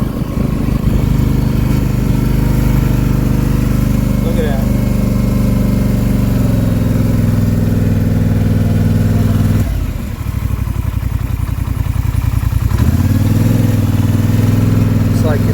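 A 2020 Polaris Sportsman 850 Premium ATV engine runs loud and steady during a test ride, a continuous mid-pitched drone that dips briefly partway through as the throttle shifts.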